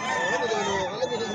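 Chicken crowing briefly at Bocaue Pet Market, a short nearby call amid the bustle of a busy market, with someone talking around it.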